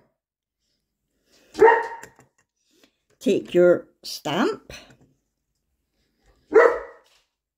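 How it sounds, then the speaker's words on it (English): A dog barks a few times nearby in short bursts, with a person speaking briefly between the barks. "excuse my dog's barking"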